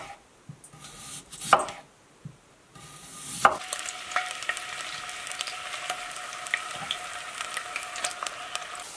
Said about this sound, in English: I'm gonna slice up these two potatoes, and we're gonna fry them into some potato chips